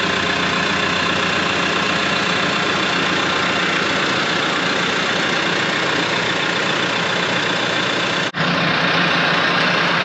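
A tractor engine idles loudly and steadily nearby, a constant low rumble with a brief dropout near the end.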